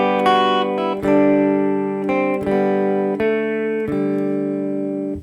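Acoustic guitar strummed on open strings over the melody of Joy to the World, chords ringing out in a steady sequence of five or six bright strums, close and clear with no talking.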